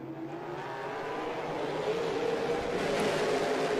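Stock cars of the NASCAR Pinty's Series roar together at a green-flag restart during the Canadian Tire 125 at Delaware, a steady loud engine drone building slightly with broadband whine and no talk.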